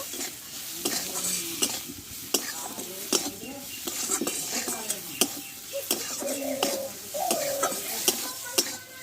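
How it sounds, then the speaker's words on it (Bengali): Spiced masala with turmeric and salt being stirred and fried in a pan, with sizzling under repeated sharp clinks and scrapes of a spoon against the metal, close and busy, a faint voice murmuring now and then. "আর দেব লবণ স্বাদ মতো দিয়ে একসঙ্গে মশলাটা ভালো করে কষে নিব"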